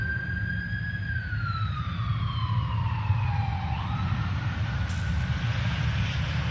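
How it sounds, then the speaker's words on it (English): A fire truck siren wails from a distance, its pitch sliding downward as it passes, over a steady low rumble of engine noise. "Fire truck coming by."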